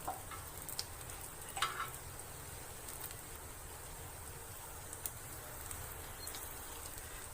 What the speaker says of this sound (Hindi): जी मीडियम फ्लेम पे हम करेंगे फ्राई